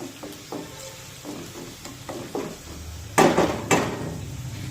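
Whole spices and chilli powder are sautéed in a pan for a Maharashtrian dill-leaf (shepu) bhaji, with soft stirring and scraping, a faint sizzle, and two louder metal spoon-on-pan clanks near the end.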